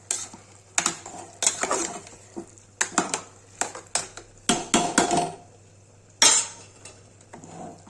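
A spoon scrapes and clinks against a metal pressure cooker in irregular bursts, stirring potato and bean curry with tomatoes close up, with a faint sizzle and steady hum underneath.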